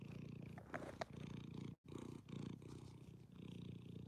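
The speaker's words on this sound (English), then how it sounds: "Deep purrs." A cat purrs deeply and steadily, close and continuous, with a brief break partway through.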